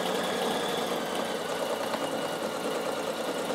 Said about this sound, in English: I'll turn it this time so I can make sure I sew a bit straighter